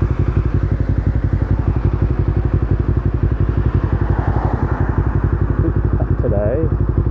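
Kawasaki Ninja 250R motorcycle engine running while riding, a steady close-up throb that stays loud and even throughout with no speech.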